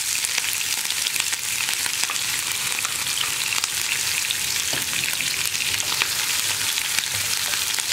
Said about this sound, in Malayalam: അപ്പോൾ നമ്മുടെ കടുക് പൊട്ടി കഴിഞ്ഞുകൊണ്ടിരിക്കുന്നുണ്ട്.